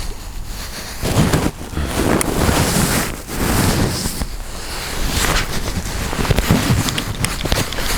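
Fast-flowing river water racing past, a loud continuous broadband rush with gusty wind buffeting the microphone and no voices.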